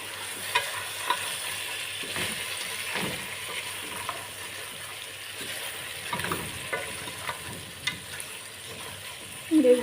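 Garlic and onion sizzle together in a pan as they are stirred, a continuous hiss with occasional soft scrapes and clicks of a utensil, close and moderate, with a louder clatter at the very end.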